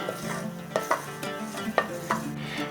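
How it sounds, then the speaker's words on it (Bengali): Chopped cashews fry in ghee with a gentle sizzle while a spoon stirs and scrapes the pan in repeated close, rhythmic strokes. "কাজুটাকে একটু ঘিয়েতে ভেজে নিলে খেতে বেশিই ভালো লাগবে, সেই জন্য একটু নাড়াচাড়া করে নিচ্ছি"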